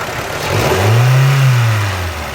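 A car engine running during a throttle position sensor test, revving up as the throttle cable is moved, then easing back toward idle; loud and close, with no talk.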